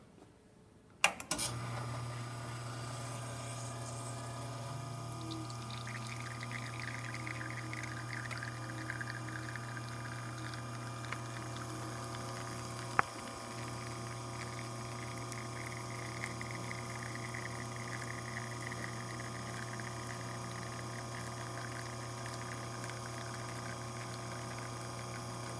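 A Rocket R58 espresso machine, freshly descaled with a replaced valve, pulls a shot: a steady pump hum and liquid flow run continuously for about 25 seconds after a brief start, with one sharp click midway and no talking.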